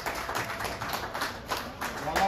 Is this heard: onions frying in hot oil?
no